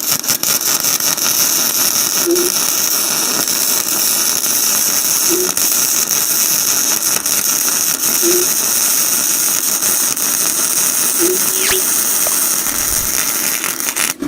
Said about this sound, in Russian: Заварю шов.